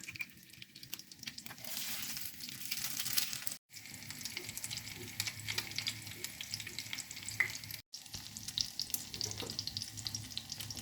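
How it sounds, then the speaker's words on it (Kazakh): Eggplant slices coated with cheese fry in a pan, giving a soft continuous sizzle with light stirring and scraping, twice broken by brief silent gaps. "Сосын жаймен қуыра бастаймыз."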